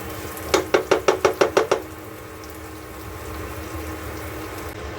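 Tomatoes fry in a pan: a quick run of about eight sharp, evenly spaced knocks, then a steady low sizzle that carries on alone, with one more knock at the very end.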